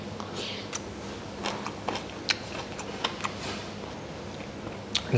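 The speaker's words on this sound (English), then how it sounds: "Nice crunch in the aubergines." Someone eats Thai green curry with crunchy pea aubergines, giving sharp, irregular crunches and clicks at close range over a low room hum.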